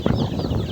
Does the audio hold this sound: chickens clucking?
yes